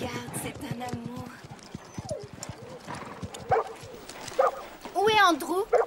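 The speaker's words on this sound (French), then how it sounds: "Andrew, c'est un chien." Dog barks and yips ring out among overlapping voices, with clattering hoof-like clops early on and a high whimpering cry near the end.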